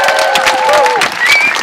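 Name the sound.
crowd applause and cheering at a rally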